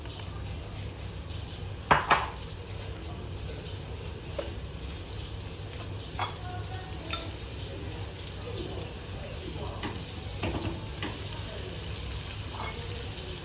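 Onion and garlic frying in oil left over from cooking shrimp for a Moroccan seafood paella, a steady soft sizzle with occasional clinks and stirring, under no talk.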